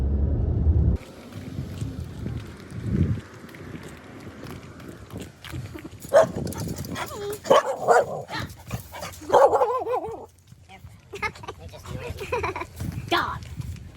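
A dog outdoors on a street gives several loud, close barks and yelps in irregular bursts. A person talks between and over the barks, with faint footsteps and traffic in the background.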